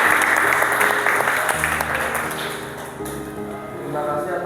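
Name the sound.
classroom applause for group 1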